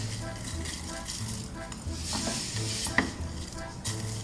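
Handmade vermicelli roasting in a pan, stirred with a utensil: soft steady sizzle with repeated scraping strokes and an occasional sharp clink of metal, close and moderately quiet.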